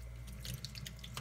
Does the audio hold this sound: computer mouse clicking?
no